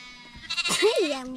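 Sheep bleat once in a farm meadow, a clear wavering call rising then falling, mid-distance, with faint ambient noise and no talk over it.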